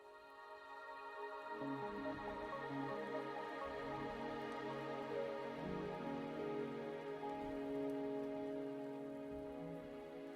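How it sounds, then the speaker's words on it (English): Steady rain falling in the video game Wuthering Waves, a continuous soft hiss of drops pattering on surfaces, fairly quiet and even throughout with low rumbling undertones. "The rain is subsiding, and the sky will soon clear."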